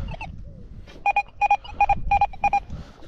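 Metal detector sounding a high signal tone in a field by a medieval Polish village, a series of about seven short, bright electronic beeps in quick succession, fairly loud.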